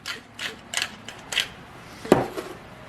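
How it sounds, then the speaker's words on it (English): A pepper mill grinds freshly ground black pepper for an Israeli salad, giving a run of short, dry ratcheting crunches in quick bursts, close by, with one sharper click near the end. "a half teaspoon of black pepper. Freshly ground."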